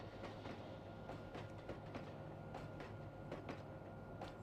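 Simulated Kakatiya Express passenger train in the Trainz Android game rolls along Indian Railways track with a continuous rumble and regular clickety-clack of wheels over rail joints, steady and fairly close.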